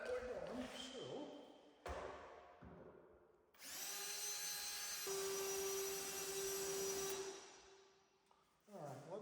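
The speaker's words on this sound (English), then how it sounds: "let's go ahead and start by just drilling that little spot weld" A power drill boring out a spot weld on a C-10 truck, short revving bursts followed by a long sustained high whine, with a final short burst, fairly quiet overall.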